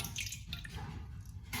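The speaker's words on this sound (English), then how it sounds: "I'm gonna pour down our lemon juice." Lemon juice poured into a baking bowl, a steady wet trickling and dripping with a brief louder splash near the end, close and fairly quiet, no talking.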